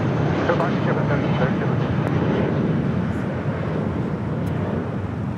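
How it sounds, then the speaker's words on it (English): Jet engine roar of an Airbus A320 airliner taking off from LAX, a loud, steady broadband rumble that fills the whole stretch without fading. "That's Blue Infinity and Beyond taking off to Salt Lake City."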